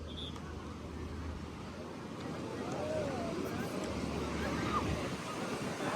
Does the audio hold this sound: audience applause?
no